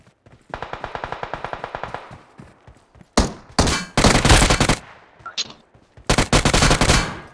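Gunfire in the mobile battle royale game BGMI, with an M416 rifle: a rapid burst of automatic shots followed by heavier, dense volleys of close, loud fire separated by short pauses.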